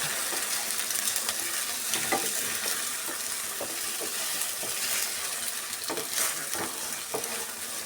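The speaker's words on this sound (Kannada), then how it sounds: "ಹಾಗೇನೇ ಫ್ರೈ ಮಾಡ್ಕೊತಾ ಇದ್ದೀನಿ ಮೊಟ್ಟೆನ" Unseasoned eggs frying in a pan for egg fried rice, with a close, steady sizzle broken by repeated scraping and clinking of a utensil stirring through.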